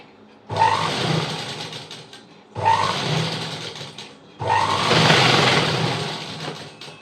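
A sewing machine stitches a boat neck blouse in three close, loud runs, each a steady mechanical whirr that stops between bursts, with the last run lasting longest. No one speaks.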